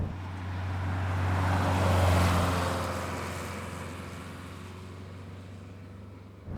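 A 1969 Porsche 912 on the road, its engine drone swelling as it passes close by, then easing into a steady hum as it moves away, with tyre and road noise underneath and no voices.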